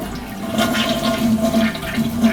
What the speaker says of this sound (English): we'll give it a flush just to make sure there's no leaks around the base of the toilet